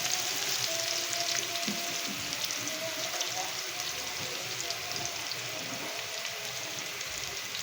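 Garlic and ginger sizzling in hot oil in a pan, a steady crackling hiss with faint bursts of stirring throughout, fairly quiet and close.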